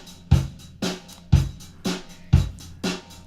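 An Airwindows stereo compressor plugin squeezes a drum loop into heavy pumping hits, seven strong thumping beats in a steady rhythm, loud and alone with no talk.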